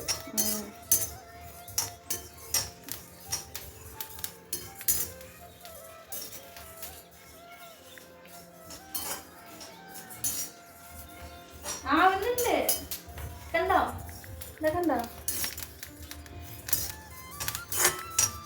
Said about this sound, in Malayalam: ഞാൻ കുറെ ഇളക്കി ഇനി ഇജി കുറച്ച് ഇളക്കട്ടെ കൈ എടുക്കാതെ ഇളക്കിക്കൊണ്ടിരിക്കണം